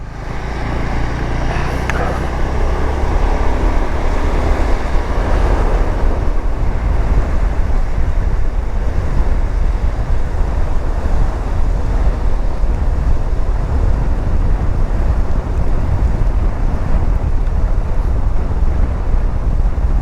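A Sym Joyride 300 scooter rides along a snowy road. Steady, loud wind roar and engine rumble fill the whole stretch without a break, and nobody speaks.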